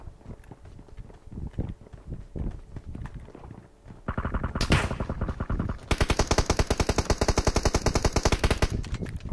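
Gunfire in PUBG Mobile: scattered shots and footsteps at first, then loud, rapid automatic bursts that grow denser and continue as a fast, steady rattle to the end.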